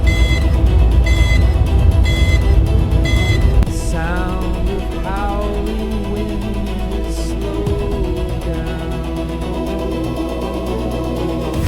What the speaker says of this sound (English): The simultaneous beeping of the warning system creates a chaotic sound.